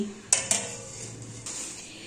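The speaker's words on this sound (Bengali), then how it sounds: "এবার ঢেকে দিচ্ছি।" A metal lid is set down on a cooking pot of pulao with slit green chillies and raisins in a home kitchen: two sharp close clanks in quick succession, then a softer clink, with no talk.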